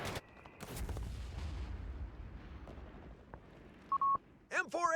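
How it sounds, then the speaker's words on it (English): Mortar firing in Company of Heroes 3, a sharp launch thump at the start followed by a rolling low rumble fading over a few seconds, with a brief electronic beep and a short voice-like call near the end. "The mortar here, just slowly putting in work."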